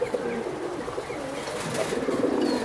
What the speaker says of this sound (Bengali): এই যে দুইটা কবুতর, জাবরা পাখি কবুতর, জাবরা পাঙ্কি